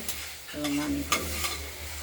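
Beto greens tempered with black cumin frying in a wok are stirred, soft scraping and steady sizzle with a couple of brief clinks, close and alone.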